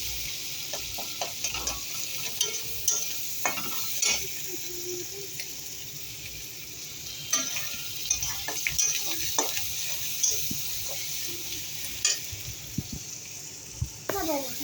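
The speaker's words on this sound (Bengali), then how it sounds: "আদা রসুন দিয়ে এবার ভুনছি" Tomatoes frying with ginger and garlic in a pan, a constant close sizzle broken by repeated spatula scrapes and clacks at irregular intervals, moderately loud, with no talking.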